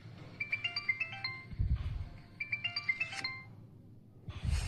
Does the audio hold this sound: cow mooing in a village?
no